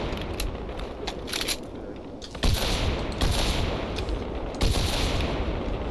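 A BMG rifle fires in a Minecraft SMP video game, a few loud sharp shots standing out over a busy rattle of background gunfire, close and punchy.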